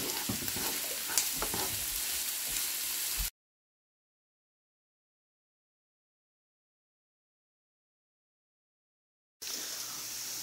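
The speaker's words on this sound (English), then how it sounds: "saute them until they start to go a little bit clear and are nice and sweet" Onions and garlic sauté in a hot pan for a Greek dinner, giving a steady close sizzle and crackle. The sizzle cuts to silence partway through, then resumes briefly.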